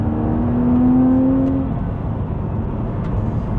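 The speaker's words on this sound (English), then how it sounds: "You get tons of induction noise in this cabin as well." A BMW Z4 Coupe 3.0si six-cylinder engine revs up with a rising, then falling tone, heard from inside the cabin with throaty intake noise before settling to a low idle rumble.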